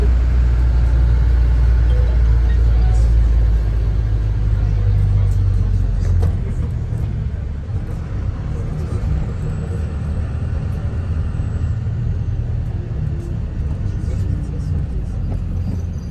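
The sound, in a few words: bus driving up the mountain road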